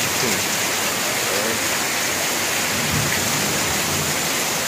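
Heavy nighttime rain pours down in a dense, unbroken roar, with a low rumble of thunder mixed into the steady wash of water and no voices.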